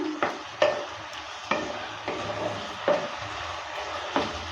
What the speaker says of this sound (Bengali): এভাবে করে দেড় থেকে দু মিনিট সময় নিয়ে নেড়ে চেড়ে নিয়ে রেডি করে নেব